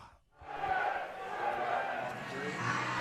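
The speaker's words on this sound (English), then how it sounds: "Crowd getting fired up." Ballpark crowd at a Melbourne Aces baseball game at Melbourne Ballpark roars and cheers steadily after a brief hush, a dense, sustained wash of many voices filling the stands.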